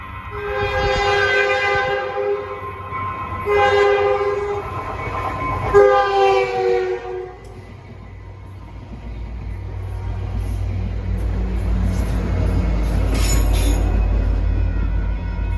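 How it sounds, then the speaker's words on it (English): A Caltrain diesel commuter train with Bombardier cars passes, opening with three long horn blasts, then a swelling low engine rumble and rolling wheel noise as it goes by. "Approaching San Francisco bound at 424 is train 409, San Jose to San Francisco."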